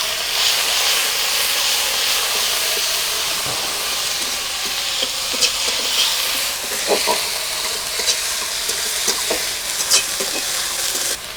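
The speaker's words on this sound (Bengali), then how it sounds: "এবারে আমি পেঁয়াজ বাটাটা দিয়ে দেবো, দিয়ে একটু কষিয়ে নেব।" Onion paste fries in a pan for a Bengali mustard-paste dish with brinjal and hilsa, giving a loud, steady sizzle and hiss broken by light scraping and clicking as it is stirred.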